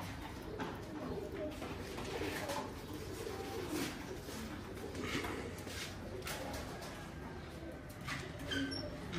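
Pigeons kept in a cabinet-style loft coo in soft, repeated low calls against a steady background murmur, fairly close and continuous.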